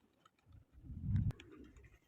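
A flock of domestic pigeons, with a single soft, low coo rising briefly out of quiet outdoor background.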